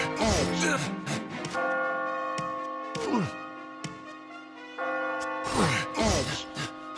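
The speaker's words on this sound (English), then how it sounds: "When you hear the bell ringing, you'll know that you've almost reached the goal." In the video game Catherine: Full Body, a resonant bell tolls repeatedly with long ringing decays, struck in several separate bursts amid clattering impacts and overlapping voices.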